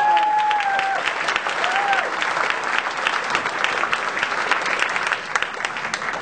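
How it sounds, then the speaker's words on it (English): A crowd at an evening political acceptance speech breaks into steady, sustained applause for the step dancers, a dense even clatter of many hands filling the room, with faint cheering tones and whistles rising briefly near the start. "Big round of applause"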